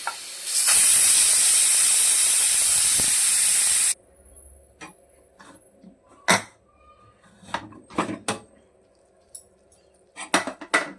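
A loud, steady hiss of steam escaping from a pressure cooker opened after four whistles of cooking curry blasts for a few seconds, then cuts off abruptly, leaving scattered clinks and soft kitchen clatter.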